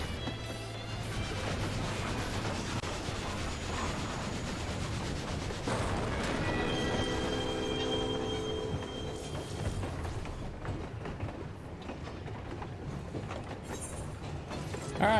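A haunted train battle in Final Fantasy XIV: a continuous dense, rumbling din of heavy clattering and crashing impacts over layered game music, sustained and fairly even throughout.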